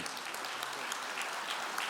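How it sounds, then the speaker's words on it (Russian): Steady applause from an audience at an official address on health care in Tatarstan, a dense, even clapping that fills the whole moment at close range with no break. "Бигзур Рахмат, аплодисменты."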